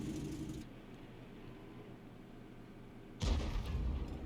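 A Lorraine 155 mle. 50 artillery tank in a tank battle video game fires one sharp, heavy shot near the end, a sudden loud boom after a quiet stretch of engine rumble.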